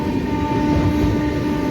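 A train rolls steadily past a standing Shalimar-Puri Weekly Superfast Express, giving a loud, continuous rail rumble with a faint sustained tonal whine and no voices.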